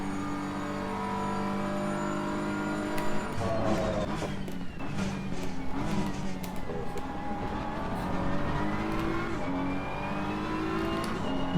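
A BMW M4 GT3 race car engine in the Assetto Corsa Competizione racing game at Kyalami, revving loud and continuous, rising and falling through gear changes with no talk over it.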